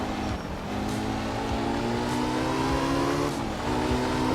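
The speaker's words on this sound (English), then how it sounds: "I've been able to go flat out on the throttle quite a bit with this car" Race car engine held at full throttle in a career-mode racing video game, a loud steady high-revving drone with rising harmonics and brief dips at gear shifts, no talk over it.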